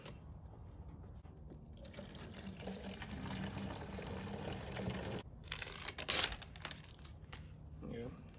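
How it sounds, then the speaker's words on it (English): Water pours into a plastic jug in a steady, close rush, with a louder splashing burst partway through before the flow settles again. "I'll just be repeating that process over and over again until I get a full jug of water"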